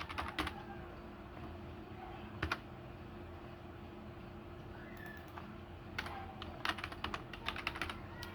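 Typing on a computer keyboard while writing web code, with soft, fairly quiet key clicks in scattered bursts and short runs, some quick clusters of taps, over a low steady background hum.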